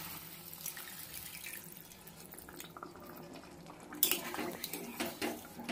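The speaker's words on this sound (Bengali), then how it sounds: "এবার পরিমাণ মতন জল দিয়ে দেবো" Water is poured into a pan of potato and drumstick curry as it cooks, a soft running splash with faint clinks of utensils and a few sharper knocks near the end.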